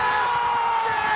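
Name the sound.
crowd cheering as Casey Catanzaro climbs the warp wall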